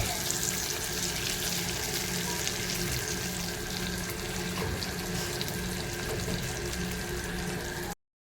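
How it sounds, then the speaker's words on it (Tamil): Curry leaves and dried red chillies crackle and sizzle steadily in hot oil with fried fenugreek seeds, a continuous close frying hiss for about eight seconds before the sound cuts off. "கருவேப்பிலையும் 2 வரமிளகாயும் போடுவோம்."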